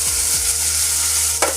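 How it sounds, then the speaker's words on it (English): Chopped tomatoes and spring onions fry loudly in a pan for an African Kenyan meal, with a continuous sizzle, a few low scrapes of stirring and a sharp utensil clack near the end. "Now we add our tomatoes and we mix with our spring onions."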